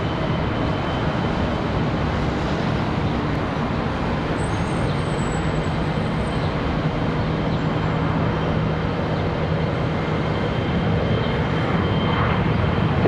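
A jet airliner taking off from runway 18 Center at Charlotte Douglas International Airport, a steady, loud, broadband engine roar that holds for the whole stretch without letup.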